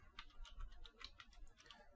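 Typing on a computer keyboard, a quiet run of light, irregular key clicks and taps in close succession, faint and close up, with no talk.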